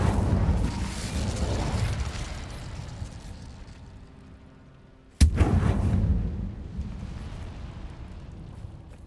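A booming Incendio fire spell bursts out in Hogwarts Legacy, preceded by rumbling combat that fades, then a sharp loud crack followed by a roaring whoosh that slowly decays.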